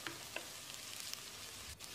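Onion, chopped beans and carrot sautéing in a pan, giving a quiet, steady sizzle with a few faint stirring clicks throughout.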